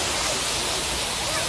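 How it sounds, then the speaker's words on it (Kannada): Water from a fountain at Mysore Zoo splashes in a dense, steady rush of broadband noise. It stays loud and close for the whole short moment. "ವಾಟರ್ ಫೌಂಟೇನ್ ನೋಡಿ ಚೆನ್ನಾಗಿದೆಯಾ?"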